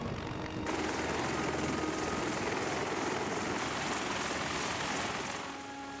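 A Sikorsky CH-53 heavy-lift helicopter flies with a steady, dense roar of rotor and turbine noise that stays loud and constant for the whole stretch, without any voices.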